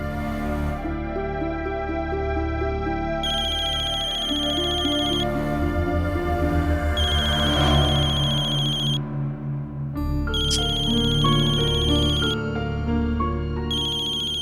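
An electronic phone ringtone plays continuously on an unanswered call in a Hindi TV drama, a bright repeating melodic chime pattern with steady rhythm, loud and close, no voices.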